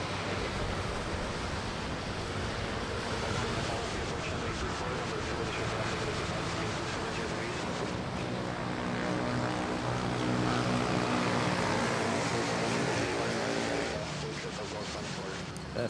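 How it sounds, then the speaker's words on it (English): Royal Brunei Airbus A320neo airliner on approach at Manila Airport, a steady loud broadband engine roar that swells slightly toward the end, continuous throughout. "That is Royal Brunei arriving from Brunei on an A320neo."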